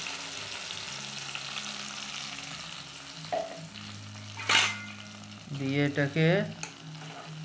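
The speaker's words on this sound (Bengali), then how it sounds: "কাঁচা লঙ্কা এবং ধনেপাতার পেস্টটা ভাজা পনিরের তেলে এইভাবে দিয়ে নেব" Green chilli and coriander paste hits hot oil left from frying paneer, a steady sizzle with sharper bursts and scraping as it is stirred in, loud and close, with a few brief spoken words over it.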